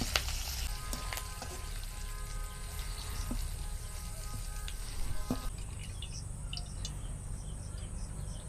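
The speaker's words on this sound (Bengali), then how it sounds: "কারি পাতা আবার ছিটে, সাবধানে করতে হয়।" Curry leaves splutter in hot oil with a steady hiss and sharp, scattered pops. A thin, constant insect-like chirping runs in the background.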